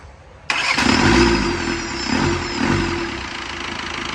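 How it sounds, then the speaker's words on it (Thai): An engine cranks and catches after its injectors were removed and the fuel cleared, starting abruptly and settling into a steady, fairly loud idle with a slight rise and fall. "มาลองประกอบสตาร์ทดูครับทีนี้มาฟังเสียงกัน"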